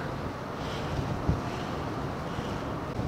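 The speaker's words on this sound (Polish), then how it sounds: "Strasznie mocno wieje." Strong wind buffets a microphone at a harbour in Port Fourchon, Louisiana, producing a constant loud low rumble with a brief thump partway through and no talking.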